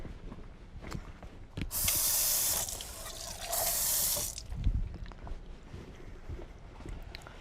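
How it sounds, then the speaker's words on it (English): Tap water hisses in two bursts into an emptied can of crushed tomatoes and is poured into a cooking pot, with soft kitchen clatter between the sprays. "I'm just adding that water just, again, clean out the can"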